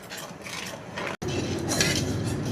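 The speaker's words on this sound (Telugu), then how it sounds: "ఇది ఇప్పుడు ఇలా తిప్పుతున్నాం కదా," A spoon scrapes and stirs a gram flour mixture for Mysore pak in a pan, giving rough repeated scraping and clinking of metal, briefly cut off by a short gap mid-way.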